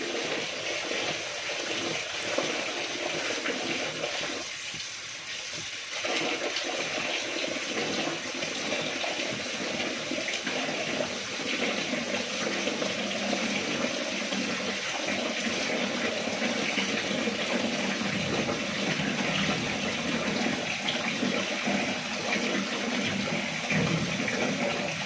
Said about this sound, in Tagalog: Hugasan pa lang po yung aking malagkit.